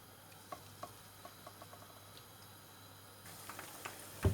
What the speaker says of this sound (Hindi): मेरा ऑयल अच्छे से गर्म हो गया, अब इसमें ये डालते हैं फ्राई करने के लिए